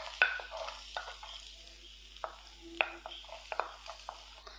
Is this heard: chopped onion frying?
yes